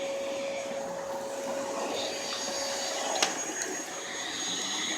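Kenmore Elite Crossover canister vacuum cleaner running steadily nearby, a constant whooshing airflow roar with a thin steady whine and a couple of faint clicks, no talking.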